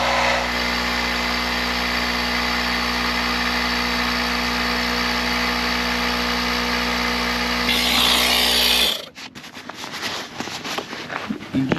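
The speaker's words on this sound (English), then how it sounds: "now the air mattress is being filled up" An air compressor runs at a steady loud drone while inflating an air mattress outdoors, then cuts off near the end, leaving quieter rustling behind.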